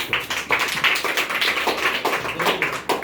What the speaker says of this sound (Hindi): ताली बजाओ जरा एक बार इसके लिए कस के